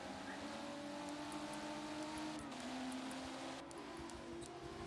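Race cars at the Brands Hatch circuit, a steady droning engine roar that holds level throughout, with faint higher whines and no clear single pass-by.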